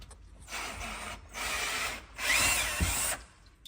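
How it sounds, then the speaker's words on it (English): A power drill whirring in three close bursts, pausing briefly between each, with grinding against wood. "we're gonna grab a drill quick and take care of that"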